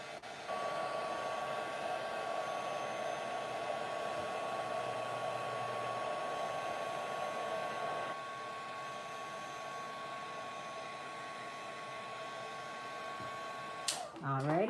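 An embossing heat tool blows a steady, loud whirring hiss for about fourteen seconds to melt embossing powder for card making, then cuts off with a brief clatter.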